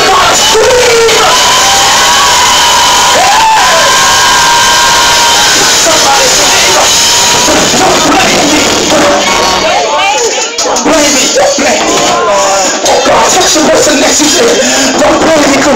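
Church congregation at a Sunday sermon erupts in sustained screaming, whooping and cheering, a dense loud crowd roar filling the whole stretch with shifting shouts.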